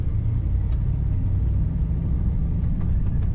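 A 1964 Lincoln Continental sedan engine idles with a smooth, steady low rumble. It is close and continuous, with no voices.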